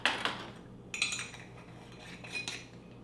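A spoon or whisk clinks against a bowl while sweet and sour sauce with pineapple juice, brown sugar and ground ginger is mixed, giving a few short, close scraping and tapping bursts with quieter stirring between them.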